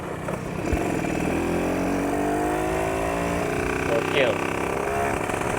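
A Suzuki Satria two-stroke motorcycle engine runs close by, its buzzing tone climbing and falling through repeated revs, with a voice exclaiming over it.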